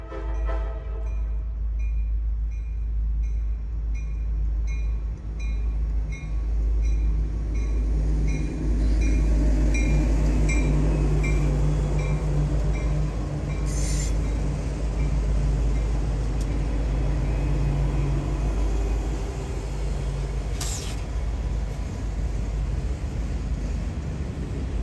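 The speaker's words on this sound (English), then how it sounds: "Next lined into Conway was Norfolk Southern C51, a local with an SD40E leading 3 other EMD locomotives." Norfolk Southern local C51 rumbles steadily past with an SD40E leading three other EMD diesel locomotives, a loud, constant low engine drone throughout, with brief bright hissing bursts near the middle and late.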